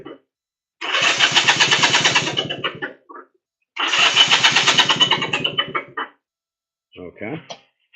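A 1964 Honda Dream 250 motorcycle engine cranks over in two long, loud, close bursts of rapid pulsing turnover, each about two and a half seconds. A short bit of talk follows.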